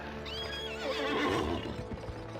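Horse neighing in the video game GUN, a drawn-out whinny with clip-clop hooves during a mounted jump, loud and close with no talk.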